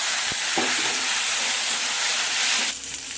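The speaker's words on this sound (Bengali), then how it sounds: "দিয়ে আমি বেশ খানিকক্ষণ নাড়িয়ে নেব" Shukto vegetables with ginger paste stirred in a pan, a loud, steady sizzling hiss with a couple of brief utensil knocks near the start and the frying quieting slightly toward the end, no voices.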